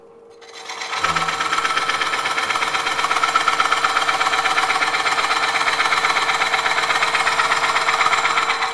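A steady, loud mechanical whir starts after a second and runs evenly throughout, a wood lathe spinning at about 500–600 RPM while coring bowls, with a constant humming drone.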